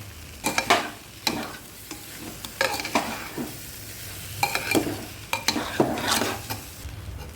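Rice being fried in a pan for khichuri, stirred with a utensil: a run of scraping, rasping strokes in uneven bursts over a soft, steady sizzle, close and moderately loud.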